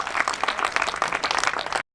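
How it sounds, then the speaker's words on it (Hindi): Members at a housing society's annual general meeting applaud, a dense steady patter of clapping from a gathered audience that cuts off abruptly after about two seconds. "तो आपकी तालियों की गूंज में अब्दुल्ला अशरफ साहब"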